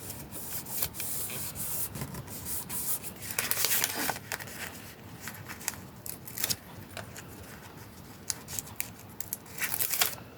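A sticker peeled slowly off its backing for a handmade holiday card: a run of close, crisp crackling and papery ripping bursts with short pauses between them, loudest near the middle and again at the end.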